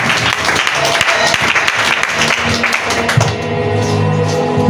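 A church congregation applauds during a Sunday worship service, loud continuous clapping that fills the room, with a sustained musical tone rising underneath in the final second.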